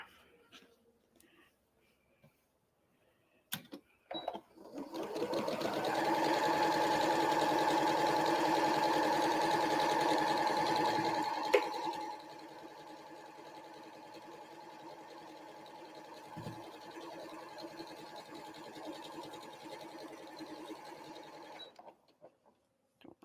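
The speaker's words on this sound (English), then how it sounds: "And we'll sew along there" A sewing machine runs in one long steady hum as it sews along a quilt over pins, starting loud and then continuing at a lower, even level, with no one speaking.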